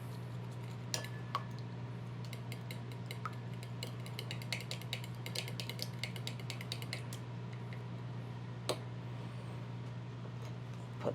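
An Ankarsrum mixer works bread dough made with fresh milled flour, a steady low motor hum with scattered light clicks and taps over it, close and even throughout.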